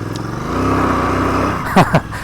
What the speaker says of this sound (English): Some nice wheel spin over here.